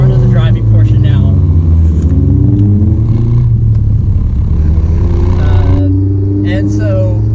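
Honda S2000 CR fitted with a Powerhouse Amuse R1000 exhaust, driving: a loud, close, steady engine drone with shifting pitch as it revs and eases off, continuing throughout.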